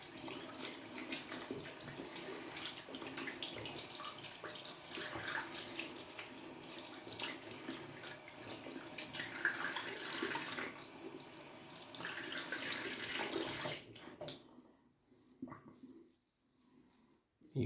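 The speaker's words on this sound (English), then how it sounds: "I'm gonna take the less that's already on my hands and just do a little bit of a hand wash." Running tap water splashes steadily into a sink as hands are washed after a shave, a continuous close hiss lasting most of the time before cutting off near the end, leaving faint drips and rustles.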